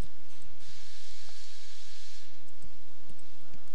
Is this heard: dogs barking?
no